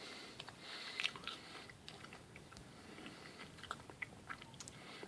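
Close bites and soft chewing on a Ganong chocolate-coated marshmallow Santa candy, a few quiet crunchy snaps followed by muffled mastication in a quiet room.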